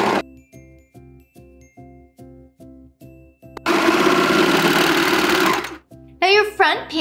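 Sewing machine stitching a curved seam joining the front panel of women's boy-short underwear, first as a steady run of evenly spaced stitch pulses, then a louder continuous whir for a couple of seconds, followed by a brief voice.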